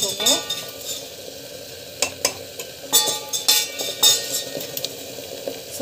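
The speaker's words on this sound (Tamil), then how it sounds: "ஸோ நல்லா வந்து கலக்கி விட்டுக்கலாம்." A spoon stirs a mixture in a pan with repeated scraping strokes and metallic clinks over a low sizzle, coming in uneven bursts close up.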